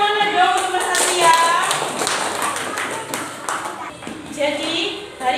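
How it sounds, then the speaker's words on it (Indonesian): A classroom of students claps for a classmate, rapid light clapping running throughout under children's voices and chatter. "Tepuk tangan yang mana dong untuk Mas Satria."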